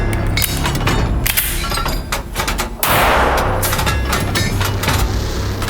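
A 9 mm pistol fires 8-gram full metal jacket rounds during velocity testing, giving loud, sharp reports with a metallic ring, close and repeated, with clinks between the shots.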